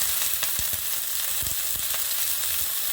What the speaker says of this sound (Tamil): சின்ன வெங்காயத்தை உரிச்சு வச்சுருக்கு அது போட்டுட்டு கருவேப்பிலையும் போடுறேன்